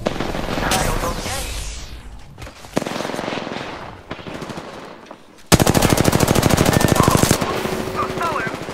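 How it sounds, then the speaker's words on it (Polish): Gunfire rains toward the player in the video game Apex Legends: loud bursts of rapid automatic fire and single heavy shots, close and dense, ending in a long sustained machine-gun stream, with a voice briefly speaking beneath. "Strzelają do mnie."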